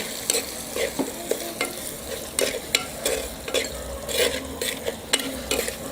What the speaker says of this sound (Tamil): இது எல்லாத்தையும் இப்போ நல்லா நம்ம வதக்கிக்கலாம்.